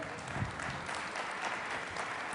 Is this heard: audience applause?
yes